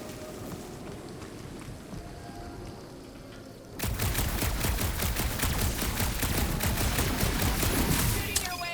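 Dense bursts of rapid gunfire erupt in a Marvel's Guardians of the Galaxy battle, starting after a quieter ambient stretch and continuing loud and sustained to the end.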